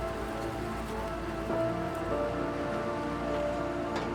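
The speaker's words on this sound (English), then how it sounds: "Then the rain started. Throughout the day, rain didn't stop." Steady rain falling during the move of the Johnson Library, a continuous dense patter on surfaces at an even level throughout, with faint tonal sounds underneath.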